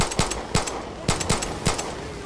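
Fire pistol shots in Far Cry 6: five sharp, loud gunshots in an uneven rhythm across a couple of seconds, close and punchy, with game ambience between them and no talk.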